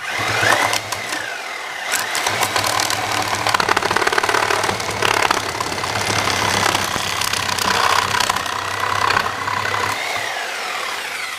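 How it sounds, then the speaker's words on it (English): Porter Cable Sawzall reciprocating saw cutting through rough, nasty wood, a loud close buzzing motor drone with rapid rattling blade strokes, holding steady for about ten seconds before easing off. "we've got a Porter cable. Sawzall is our test unit, and we'll see what this thing does"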